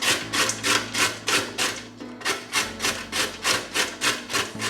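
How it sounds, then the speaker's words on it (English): Carrots are shredded against the largest holes of a metal box grater, making steady, rhythmic rasping strokes, about three per second, with one brief pause midway and no speech. "we're going to shred 3 carrots."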